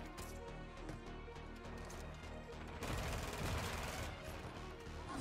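Gunfire from Call of Duty: Modern Warfare II, a dense continuous stretch of shooting that grows louder and heavier about halfway through, with no talk.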